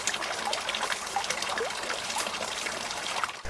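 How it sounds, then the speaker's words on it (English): A garden stream trickles and burbles steadily, a close, continuous splashing of water with small gurgles, alone and without voices. "I think a stream is so much more, just energetic than a pond"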